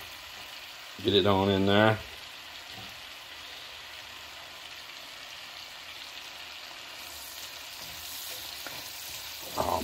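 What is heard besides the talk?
tomato, garlic and onion frying in butter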